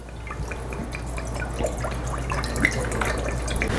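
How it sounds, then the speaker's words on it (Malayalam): Water pours into a pot for cooking oats, a steady close splashing trickle with small drips throughout, no voices. "നമ്മൾ വെള്ളം ഒഴിക്കുന്നു"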